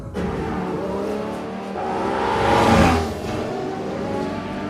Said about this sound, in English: The engine's running hot.